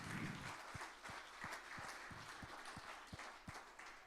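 Church congregation applause during a service, a moderately distant wash of clapping with a slow, regular beat of louder claps running through it.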